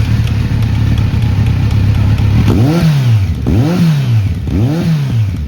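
BMW S1000RR superbike fitted with an SC S1 titanium exhaust idles with a loud, steady burble, then gets three sharp throttle blips in a row, each rising and falling back, close up and alone.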